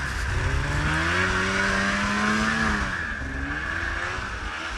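A snowmobile drifting and banging around on snow on a rural Ontario property, its engine loud and close with a wavering, rising and falling pitch as the sled slides, steady throughout with no talking.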